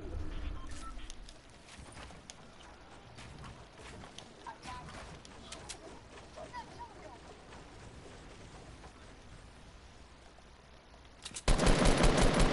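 Scattered gunshots and bursts of fire from an online shooter video game crackle at moderate distance with steady ambient game noise, ending in a sudden loud burst of noise.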